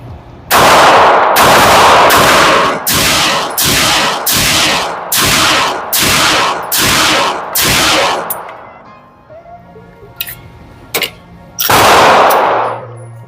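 A Glock 48 MOS pistol fires about a dozen sharp, loud shots down range, a steady string of evenly spaced cracks followed by a brief pause and a few more scattered shots.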